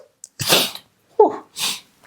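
A single person sneezes close up, a sharp breathy inhale followed by an explosive burst, then a trailing breath, loud and alone with no talking.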